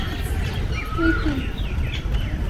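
Pigeons call in a public park in New Delhi, soft cooing and chirps sitting low in the mix beneath steady outdoor ambience and nearby talking.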